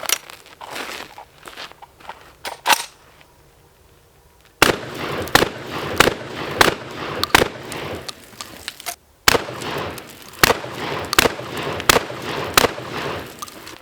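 VR80 shotgun with mounted Streamlight TLR-1 HL and Harbor Freight replica weapon lights firing outdoors: loud sharp blasts, a few early shots, a pause, then rapid strings of repeated shots with brief gaps between bursts.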